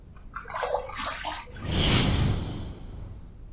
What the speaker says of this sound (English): Second pass done, let's rinse.